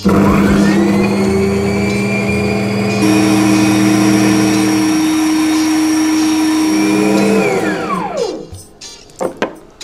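Hurakan HKN-CL6 food cutter blending Caesar salad sauce ingredients, a loud close motor whir with a shifting pitch that holds steady, then spins down sharply near the end, followed by a few light clicks and knocks.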